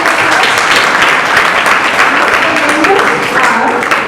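Audience applause at a school inter-house science quiz competition, a sustained loud burst of many hands clapping, steady across the whole stretch with a voice faintly underneath.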